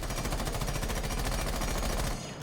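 Sustained automatic rifle fire in Rainbow Six Siege, a rapid even stream of shots lasting about two seconds before stopping abruptly, loud and close with no talk.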